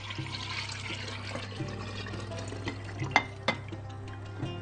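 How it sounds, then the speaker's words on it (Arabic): Sobia drink mixture is poured into a jug, a soft continuous liquid splash and trickle with a few light clinks of the container, close and fairly quiet. "هنحط بقى الخليط في الدورق"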